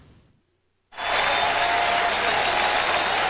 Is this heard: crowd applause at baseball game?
yes